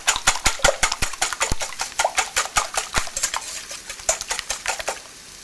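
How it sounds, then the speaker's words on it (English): Eggs whisked in a bowl for a frittata, a fast, steady run of sharp clinking utensil strikes against the bowl, close and loud, fading out at the end. "I'm going to just mix up my eggs a little bit, combine them, kind of like you're making scrambled eggs"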